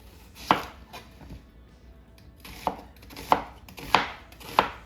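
Large onions being cut with a knife on a board, five sharp chopping strikes spaced irregularly, close and fairly loud over faint background noise, no voices.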